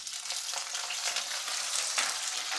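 Oil sizzles and crackles steadily in an iron pan as chicken fries, a dense hiss with faint stirring scrapes, close and fairly quiet, with no talk.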